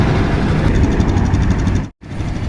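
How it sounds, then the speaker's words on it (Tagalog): A warmed-up car engine with a problem where it dies or won't restart once hot idles loudly up close with a low, even rumble. It drops out for a moment near the end, then picks up again. "pinainit ko para malaman ko kasi pag mainit na po kasi ang makina namamatay"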